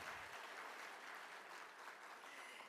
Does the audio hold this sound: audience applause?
yes